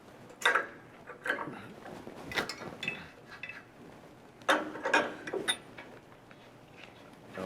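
A ratchet wrench loosens a jam nut in a garage, sounding as several short bursts of quick clicking spread apart, faint and close, with quiet room noise between them.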